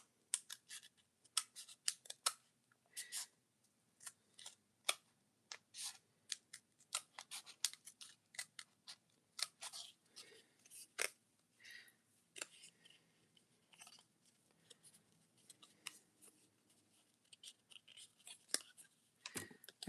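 Scissors snipping open a plastic package, a fast series of sharp, close clicks and cuts with brief pauses between bursts, heard alone without talk.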